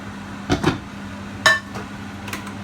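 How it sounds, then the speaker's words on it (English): A few short metallic clinks and knocks, a lid being set on a pot, sharp and close with a steady hum in the background. "Lid back on."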